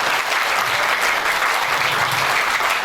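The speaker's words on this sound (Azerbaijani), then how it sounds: "Yəni bir özümüzü alqışlayaq." A crowd at a literary meeting with writer Sabir Rustamkhanli breaks into dense, steady applause, loud and continuous throughout with no break.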